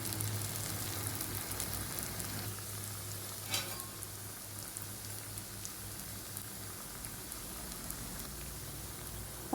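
Two vadas fry in hot oil in a small pan, giving a steady, soft, continuous sizzle and crackle with a brief brighter burst partway through.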